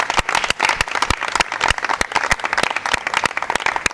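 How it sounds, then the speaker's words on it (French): An audience at a live music event applauding an artist, with sharp, closely spaced hand claps and brisk, lively clapping from a nearby crowd. "je demanderai à mes soldats d'applaudir frénétiquement pour l'artiste."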